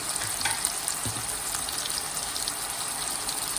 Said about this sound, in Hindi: और ये सारी चीज़ें डाल के अच्छे से भूनेंगे।